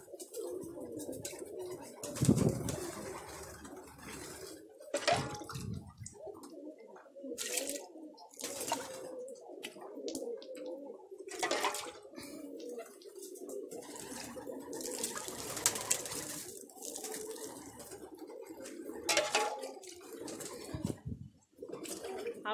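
Pigeons coo in a pigeon loft with soft, repeated throaty calls at close range. Rustling, brief wing flutters and scattered cleaning noises sound around them, and a person speaks faintly.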